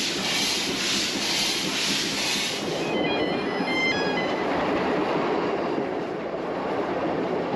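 An Isle of Man Steam Railway steam train runs at speed on the Douglas to Port Erin line, a steady loud rolling rumble and rattle of wheels and carriages with brief squealing tones midway, no voices.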